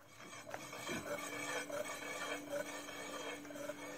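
On a front wheel of an e-chopper, a brake disc rubs against the brake pad while the wheel turns, a faint, repeating scraping rasp with a steady faint tone beneath it, and no voices.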